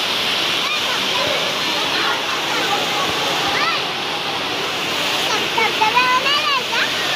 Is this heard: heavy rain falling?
yes